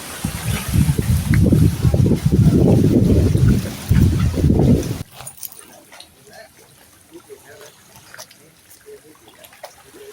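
Strong gusty wind by the water as rain approaches, roaring and buffeting the microphone loudly for about five seconds, then dropping to a quieter outdoor ambience while someone talks.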